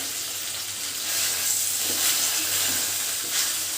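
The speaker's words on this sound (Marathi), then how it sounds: "जे काही आपण वांगे घेतलेले आहेत फ्राय करून ते आता याच्यात टाकून द्यायचे आहेत आपल्याला" Fried brinjals with garlic and curry leaves frying in oil for a Maharashtrian bharli vangi: a steady, close broadband sizzle with slight swells, no talk.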